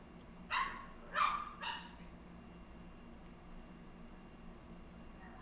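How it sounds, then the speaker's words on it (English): A dog barks three times in quick succession, moderately close but fairly quiet, over a low indoor background hum, then falls silent. "Hey, quit barking."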